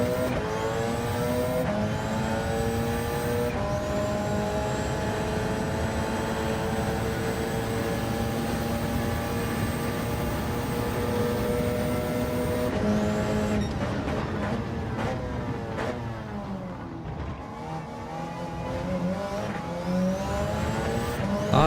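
Race car engine howls through shifting revs on a test lap in the dark in a racing video game, running on hard tyres ahead of a 4-hour endurance event; steady and loud throughout, with gear changes and brief tyre noise.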